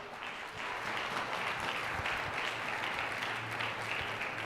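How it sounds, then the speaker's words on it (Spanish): A church congregation applauds children, a soft, steady patter of many hands clapping at a distance for several seconds. "Un aplauso para ellos."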